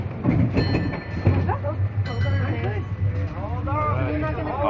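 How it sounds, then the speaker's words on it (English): A crowded San Francisco trolley rolls along its rails at night, a low continuous rumble under constant chatter from passengers nearby. "this is the end of the trolley ride"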